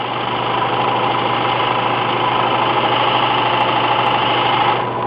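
A belt sharpener runs steadily while a V-tool carving chisel is held against the moving belt, giving a loud, even motor hum and grinding whir for about five seconds with no voices.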